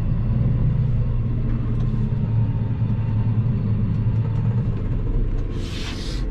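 A steady, heavy Xerion tractor engine rumble drones at close range while driving onto a sand lot, low and constant, with a brief hiss near the end.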